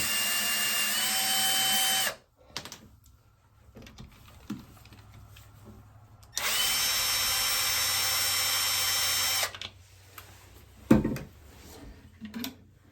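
Powered screwdriver removing toilet seat bolts, a loud close high-pitched whirring in two sustained runs of several seconds each, separated by clicks, handling knocks and small clunks.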